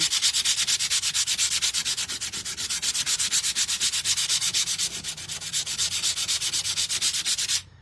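Rapid, even back-and-forth strokes of sandpaper rasp continuously and loudly for several seconds, then stop abruptly.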